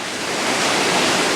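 Waterfall at the Doran cascade climbing site, a steady, loud broadband rush of falling water that fills the whole moment without pause and with no voices.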